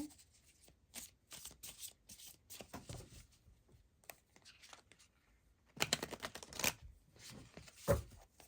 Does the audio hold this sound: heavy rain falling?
no